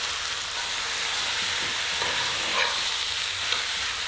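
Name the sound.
beef sautéing with onions in a pan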